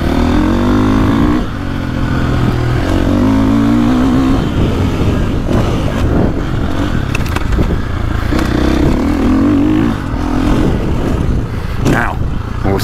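A 2024.5 KTM 450 Factory Edition dirt bike revs loudly off-road, its engine rising and falling in repeated bursts under the rider's talk.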